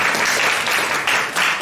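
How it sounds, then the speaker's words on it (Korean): A church youth-group congregation at a Sunday worship service claps for Yohan in a brief, steady burst of applause from many hands, fairly loud and continuous throughout, with no talking. "우리 요한을 위해서 박수 한번 칠까요?"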